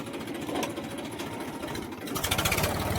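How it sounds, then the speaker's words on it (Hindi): A tractor engine runs close by in a steady mechanical chug, its rapid rhythmic knocking growing louder and brighter toward the end as it revs, with no voices. "हमने ट्रैक्टर स्टार्ट कर लिया है"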